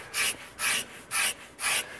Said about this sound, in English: I'll give you a sense of how some of these scrapers work in some of these specific areas.